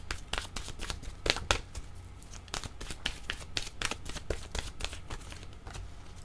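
Tarot cards are shuffled and drawn in quick, close riffles and flicks, a dense run of crisp paper snaps and slides that continues steadily with no voice over it.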